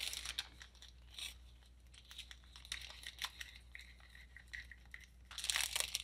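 Quiet scraping and crinkling of a plastic bag as thick caulk mixture is pushed into it, soft intermittent rustles and scrapes close by.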